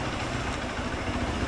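A parked motorcycle's engine idles steadily with a low, continuous rumble and faint vibration, close by and without talk.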